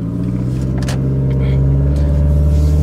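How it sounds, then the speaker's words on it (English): An old beat-up car drives along with a heavy, steady engine drone and low rumble heard from inside the cabin, loud and continuous, with a few faint rattles. "once again, back in the hoopty car."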